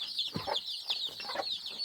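A cluster of chicks cheeps continuously in high, rapid peeps, fairly quiet and close, with faint soft rustling underneath.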